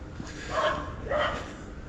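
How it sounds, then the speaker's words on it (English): A dog barks twice at some distance outdoors, soft and slightly muffled, with a short pause between the barks and quiet background noise. "someone's dog is barking up"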